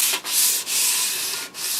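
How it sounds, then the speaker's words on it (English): Close, rough rasping of sandpaper rubbing across a parawood desk in long strokes, with brief pauses between passes. "we're doing the sanding so that the wood will take the"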